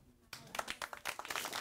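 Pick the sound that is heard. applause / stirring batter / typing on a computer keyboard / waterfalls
applause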